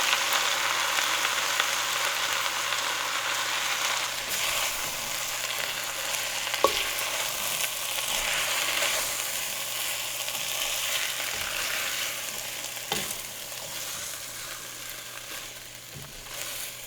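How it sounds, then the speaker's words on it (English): Spinach is stirred and heated in a pot on low heat, giving a steady soft sizzle with occasional faint clinks of a utensil, alone and without talk. "So now I just want to get this spinach thawed out and mixed in and get everything fully heated"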